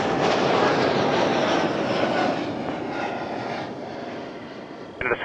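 An Embraer E195 jet at Toronto airport roars loudly as a broad, steady engine rush that slowly fades, followed by a brief clatter at the end.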